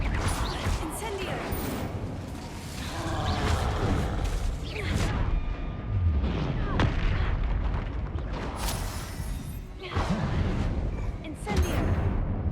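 Incendio fire spell cast repeatedly in Hogwarts Legacy during a troll fight, with bursts of fiery whooshes and booming impacts layered over busy game combat audio, loud and close, with brief quieter gaps between blasts.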